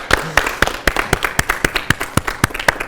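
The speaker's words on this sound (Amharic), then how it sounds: "በደንብ አርጋችሁ አጨብጭቡለት።" Audience applause for a young student performer at a school event, a steady burst of rhythmic clapping for about three seconds, close and fairly loud.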